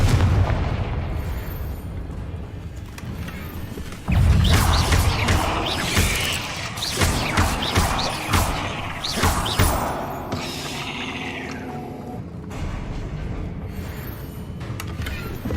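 Confringo fire spell blasts in the video game Hogwarts Legacy, a loud burst near the 4-second mark followed by several sharp explosive cracks and booms amid cursed-fiend combat effects, with no talking.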